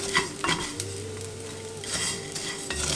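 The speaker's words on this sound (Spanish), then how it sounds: "truena como palomitas" Rice grains crackle and pop like popcorn in a hot pot, a busy sizzling patter with occasional sharper snaps, close by and without voices.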